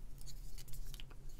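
Folding knives, an Artisan Cutlery Arion and a Ferrum Forge Archbishop, snapped shut by hand: a few quick, close metallic clicks and scrapes, faint and brief with no talking.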